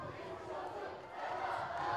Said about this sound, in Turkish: Geçmiş olsun Selda tezahüratı. ABB Fomgit taraftarından.